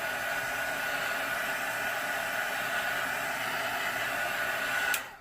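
Hair dryer blowing on stencil paint, a steady loud hiss that holds for about five seconds before switching off.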